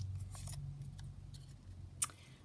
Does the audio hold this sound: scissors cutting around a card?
yes